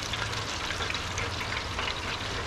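Rockfish and ling cod fillets frying in oil outdoors, a steady dense crackle and sizzle with scattered pops, close and even throughout with no voices.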